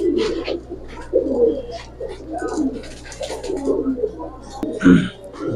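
Giribaz pigeons coo in low, rolling murmurs, close and repeated throughout, mixed with people talking over them.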